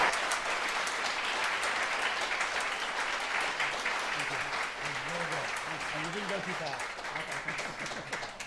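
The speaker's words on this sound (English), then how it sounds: "let us give Tom another warm round of applause" Sustained audience applause fills a lecture hall after a talk on the oldest stars and missing galaxies, a dense steady wash of many hands with a brief voice heard faintly partway through.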